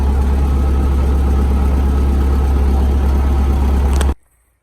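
A loud, steady diesel engine drone with heavy low rumble from an MTZ-82 turbo tractor pulling a BDT-3.0 disc harrow over stubble, running continuously before cutting off abruptly near the end.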